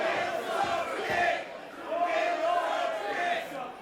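A wrestling crowd at a Juggalo Championship Wrestling event boos a wrestler in loud, swelling waves, with a commentator talking over the noise.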